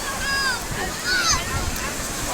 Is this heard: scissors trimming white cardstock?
no